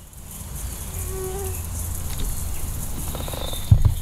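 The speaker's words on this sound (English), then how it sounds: "A mosquito flew in" A mosquito's high, thin whine drones steadily close by in a forest along the Great Ocean Road, Australia, against a quiet outdoor background, with a couple of soft knocks near the end.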